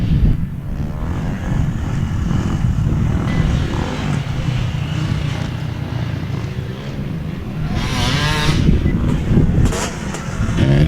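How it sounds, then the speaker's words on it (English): Two-stroke open-class motocross bikes leave the starting gate at Winchester Speedpark MX, a loud, continuous blend of many engines that swells and climbs in pitch toward the end, with no talk. "Two-stroke open riders getting set to leave the gate here."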